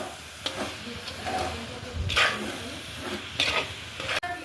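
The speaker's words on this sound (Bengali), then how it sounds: "ওটাকে বেশ ভালো করে একটু ভাজা ভাজা করে নেবো তার আগে এখানে পাউডার দুধটা দিয়ে দেবো" Coconut mixture with powdered milk sizzles and scrapes as it is fried and stirred in a pan, a steady close hiss broken by a few louder stirring strokes, with no one speaking.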